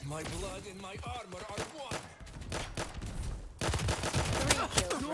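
Rapid bursts of gunfire ring out in the mobile shooter Hyper Front, with a player talking excitedly over the shots and a louder stretch of firing near the end.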